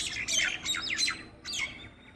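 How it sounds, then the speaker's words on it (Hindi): Birds give several close, bright squawking chirps in quick clusters against a quiet, calm background, with a short pause before a final call. "शांत माहौल में अगर चिड़ियाओं की आवाज़ सुनो ना तो बढ़िया लगती है"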